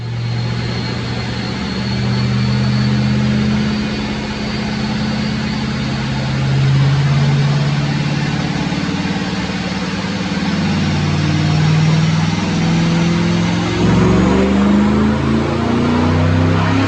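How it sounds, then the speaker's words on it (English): A supercharged 2007 Ford Mustang GT with Paxton supercharger, cams and headers runs on a chassis dyno, a loud, steady engine drone holding for the whole pull with a slowly rising pitch toward the end. "Let's check out the dyno pull."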